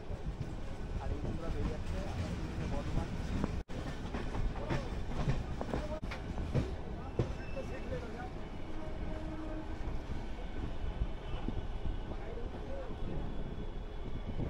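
An Asansol–Bardhaman MEMU passenger train rolls along the rails near Asansol, a continuous loud rumble with faint wheel clatter and a few sharp knocks, while a voice speaks over it.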